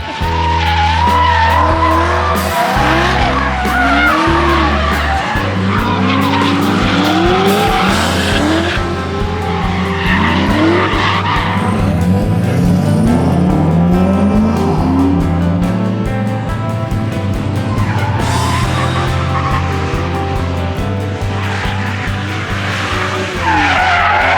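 Drift cars screeching and skidding on a snowy track at Pocono Raceway during a NASCAR-circuit drift event, with continuous loud tire squeal and roaring engines that rise and fall as the cars slide past.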